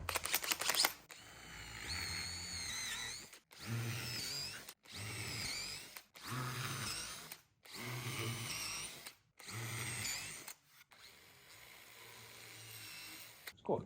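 A power drill whirs in about six short bursts with brief pauses between, the bit grinding through green oak close by.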